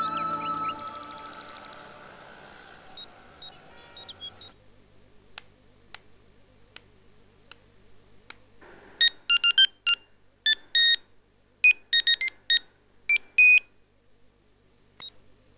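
A phone rings in a Tamil television drama, first as a soft electronic tone and then as bright, repeated beeping bursts, clear and alone with no voices.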